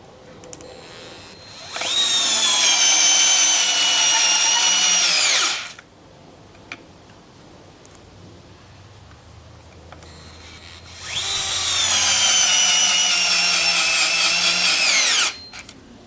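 Two cordless screwdrivers, a DeWalt DCF680 and a Hitachi DB3DL fitted with Phillips bits, each drive a screw into untreated 2x12 lumber: two loud, close whining bursts of about four seconds each, separated by a quiet gap.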